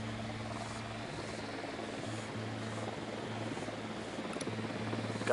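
An Unidad drone approaching in the video game Ghost Recon Wildlands gives a steady buzzing, whirring hum that slowly grows louder over constant game background noise, with no voices.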